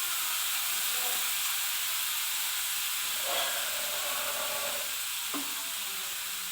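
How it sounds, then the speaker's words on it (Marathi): Tomato puree hitting hot oil with fried onion in a pan for chole gravy, giving a steady, fairly quiet sizzle and hiss, with a few brief stirring scrapes and spoon clinks. "कांदा छान तेलामध्ये भाजला की मग आपण त्याच्यामध्ये टोमॅटोची प्युरी टाकून घेऊया"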